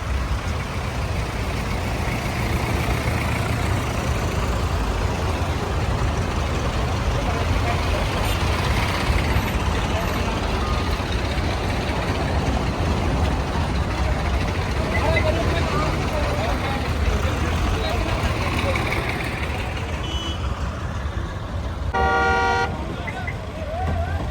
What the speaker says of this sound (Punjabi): ਬਹੁਤ ਟਰੈਕਟਰ ਇਕੱਠਾ ਹੋ ਗਿਆ